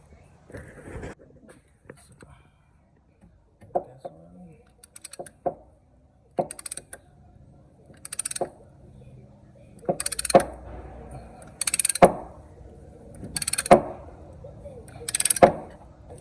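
A caliper piston compressor tool pushes the front brake pistons back on a Toyota Sienna 3.5, giving a series of sharp ratcheting clicks that come in short bursts and grow more regular toward the end, close up with faint background noise.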